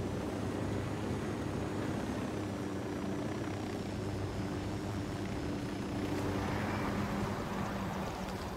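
Surveillance drone flying in the video game Ghost Recon Wildlands, a faint steady propeller whine and hum sustained throughout with a slight swell near the end.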